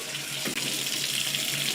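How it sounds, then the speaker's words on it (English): Brown-tinged tap water runs from a faucet in a Harlem home, a loud, steady rushing stream close by, broken only by one very brief dip before flowing on evenly. "He runs the water to let it clear up"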